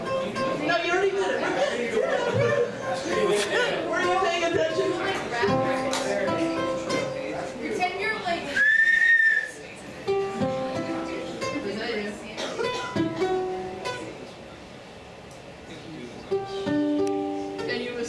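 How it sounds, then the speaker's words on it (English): A sustained whistled tone from a person rises out of a busy, layered live-music backdrop at a club show, a clear whistle held for about a second amid instruments and chatter. "he can whistle"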